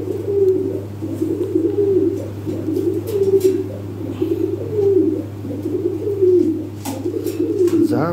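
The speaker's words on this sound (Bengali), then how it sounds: "এর খাঁচায় দেখাই, এই যে দেখেন কবুতর" Lahori pigeons coo in their cage, close and continuous, with layered rolling calls over a low steady hum.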